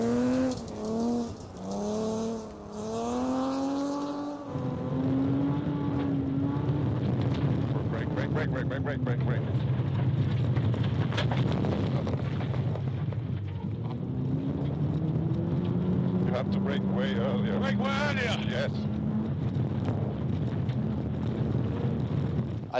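A rally car driven hard on loose gravel during rally driving training, with a continuous loud engine drone that rises and falls through gear changes and wind buffeting, while a person talks over it throughout.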